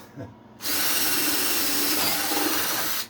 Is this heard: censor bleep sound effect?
no